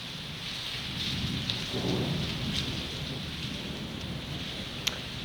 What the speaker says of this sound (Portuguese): Está um dia muito chuvoso.